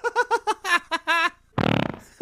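A recorded fart sound plays back loudly, first a run of short wet, voiced pops in a bouncing rhythm, then a brief pause, then a longer rough, sputtering blast.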